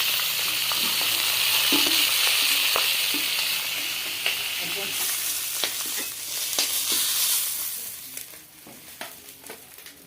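Large rohu fish pieces fry in oil in a kadai with a loud, close sizzle that eases later, while scattered clinks and scrapes of turning and lifting the fish punctuate it.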